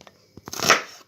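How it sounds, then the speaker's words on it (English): A knife chopping onions on a board, a few quick close taps followed by a louder slicing crunch, brief and alone in a quiet kitchen. "We need to cut the onions."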